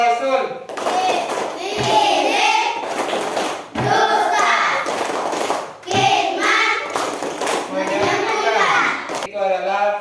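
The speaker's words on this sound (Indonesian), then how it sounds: "Tepuk sifat mustahil bagi Rasul." Children chant in unison with steady, rhythmic hand clapping, voices loud and near, the claps landing in regular bursts between chanted phrases.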